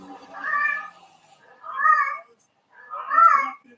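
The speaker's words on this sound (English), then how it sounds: "There goes the cat again in heat." A cat in heat meows three times in a row, each call a drawn-out, tonal yowl separated by short pauses, moderately loud and close with no other sound around it.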